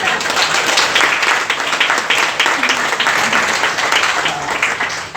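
A church congregation claps loudly and steadily during a Sunday worship sermon, a dense continuous wave of applause lasting throughout.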